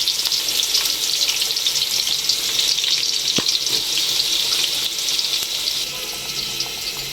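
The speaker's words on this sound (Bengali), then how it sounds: "এখানে পেঁয়াজগুলো আমি সেটা ভাজা নিব" Onions frying in a pan in a home kitchen, with a continuous crackling sizzle at moderate loudness and a single sharp tap partway through.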